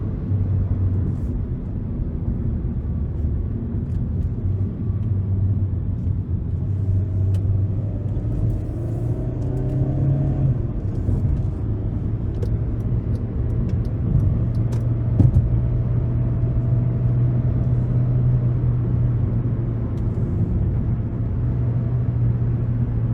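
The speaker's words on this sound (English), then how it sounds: "I just love keeping it high up in the revs there." A 2014 Hyundai Elantra GT with about 101,000 miles, driven in manual mode, holds its engine high in the revs, a loud continuous droning hum inside the cabin that rises slightly in pitch, with road rumble underneath.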